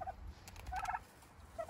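Turkeys on a homestead give a few quick, warbling gobbles at moderate distance over a low background murmur.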